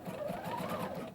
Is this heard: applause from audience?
no